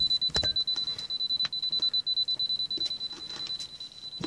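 A continuous high-pitched electronic beep from a GVDA GD118B multimeter sounds without a break, with faint clicks and handling noise underneath.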